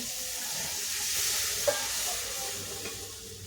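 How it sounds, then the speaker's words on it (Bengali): Mustard oil and spices for rui fish kalia hiss and steam in a pan as a little water goes in, a soft steady sizzle with a brief knock partway through. "এবার কিন্তু অল্প পরিমাণে জল দেব।"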